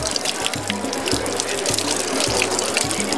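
Holy water runs from a fountain at the Vatican in a steady, close splashing stream, with a low pulsing gurgle repeating beneath the continuous rush.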